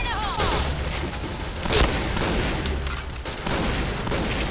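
Gunfire and explosive blasts crackle and boom continuously in a shooter video game during a grenade fight, with a louder burst near the middle, all dense and close.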